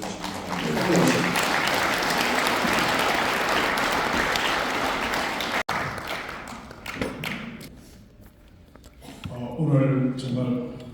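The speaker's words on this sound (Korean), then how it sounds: "여러분들 우레와 같은 박수를" An audience at a patriotic humanities lecture applauds a professor as he is invited to the stage, a dense, steady wash of clapping lasting several seconds before thinning out, followed by a voice speaking.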